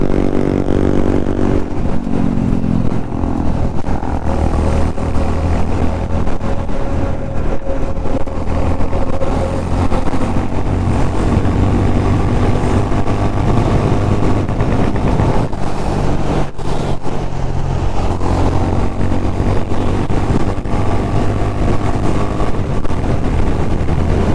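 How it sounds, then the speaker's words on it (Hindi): A superbike ridden at a Kolkata meetup gives a steady, loud exhaust roar for the whole stretch, with engine drone and wind buffeting and no talk. "क्या लाउड एग्जॉस्ट है भाई, देखो चला रहा है, देखो।"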